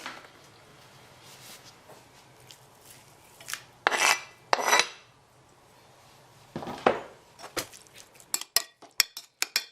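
Knife cutting pork into small pieces on a board, a run of rasping cuts with broad scraping bursts early and quicker sharp taps toward the end, close and fairly quiet with no talk.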